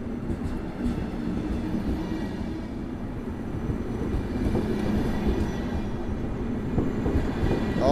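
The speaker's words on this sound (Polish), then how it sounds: "Pociąg piętrowy typu push-pull. Na końcu znajdziemy lokomotywę Trax, czyli" A double-deck push-pull train with a Traxx EU47 locomotive at Warsaw Powiśle station gives a steady, loud, continuous rumble of rolling wagons that swells slightly toward the end.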